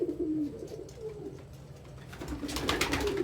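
Pigeons in a loft coo softly in low, rolling murmurs, a few calls close by, with faint rustling and fluttering noise around them.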